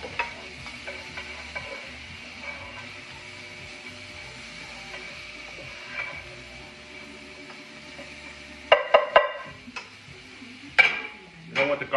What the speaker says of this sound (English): I like garlic, so put that in there. All right. Go ahead and stir that up a little bit.